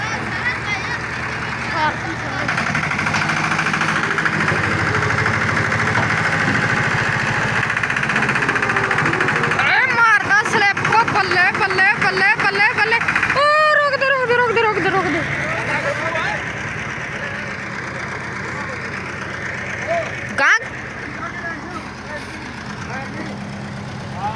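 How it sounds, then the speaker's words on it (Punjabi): A tractor engine rumbles steadily for a long stretch, with speech-like sounds over it and a brief louder surge midway. "ਉਹ ਆਉਂਦਾ ਅੱਜ ਦਾ ਟਰੈਕਟਰ"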